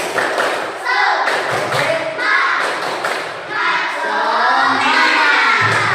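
A primary school class claps together in a patterned rhythm, loud and close, with voices chanting along over the beat.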